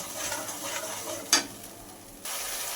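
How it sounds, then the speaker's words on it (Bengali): Ginger-tomato paste is stirred into hot oil with fried dried red chillies, producing a soft sizzle with a sharp scrape of the spoon midway and then a quieter hiss. "আদা টমেটোর যে মিশ্রণটা করে রেখেছিলাম তো সেটা এর মধ্যে দিয়ে কিছুক্ষণ তেলের সঙ্গে কষাতে হবে"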